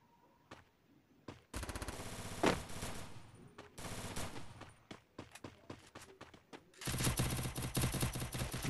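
Gunfire in the Free Fire video game, ranked Clash Squad match: a short shot, then several loud close bursts of automatic fire with brief gaps, ending in a sustained rapid burst.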